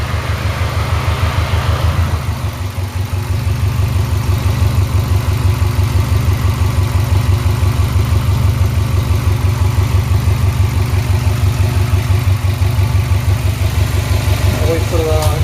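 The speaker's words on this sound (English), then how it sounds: "make sure your compressor is cycling on" A car engine idles close by with a steady low rhythmic pulse while the air-conditioning compressor runs, the drone continuing unbroken throughout.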